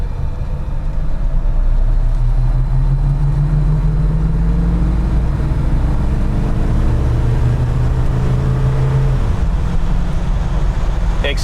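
A 1969 Mercedes 300 SEL cruises at 60 mph, its cabin filled with a low steady engine hum and road rumble, with a faint gliding drone that shifts in pitch as it rolls on smoothly without talk.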